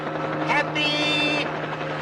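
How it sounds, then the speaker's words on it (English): A helicopter flying overhead as a radio sound effect, a steady whirring engine drone with a brief rising whine partway through, while someone talks over it. "It's a helicopter, and it's coming this way."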